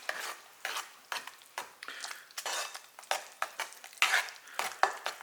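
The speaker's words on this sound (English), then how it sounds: "And again we'll stir." Utensil stirring lemon juice into a hand-made chickpea paste for hummus, giving a steady series of soft wet scraping strokes against a bowl, close and moderately loud, with no talking.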